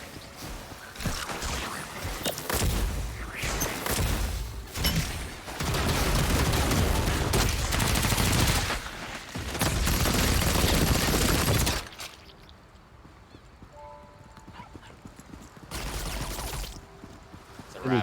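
Gunfire in the video game Lost Ark crackles in long dense bursts of rapid shots, loud and sustained for several seconds at a time, then falls to quieter gaps with a few later shots.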